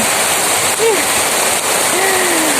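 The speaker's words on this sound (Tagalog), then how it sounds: "The rain sound is make me amazing." Heavy rain pours steadily at a wonderland spot, a loud, dense, unbroken hiss with a faint voice briefly audible beneath it.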